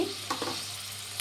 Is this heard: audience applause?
no